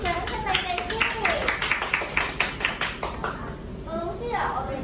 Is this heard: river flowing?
no